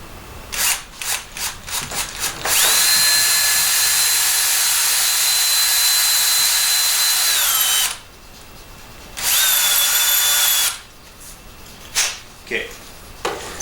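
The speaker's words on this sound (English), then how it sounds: "now that I have drilled both with the same drill" A power drill whirs at high pitch in two sustained runs, the first long and steady, with short clicks and trigger taps before and between.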